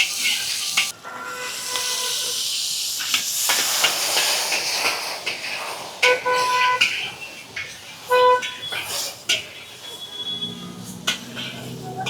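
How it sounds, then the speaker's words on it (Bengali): Chicken frying in warm oil in a wok, a loud broad hissing sizzle with sharp crackles and surges, steady across the whole stretch without speech. "অয়েলটা হালকা গরম হয়ে গেলে আমি চিকেনটা দিয়ে দেবো"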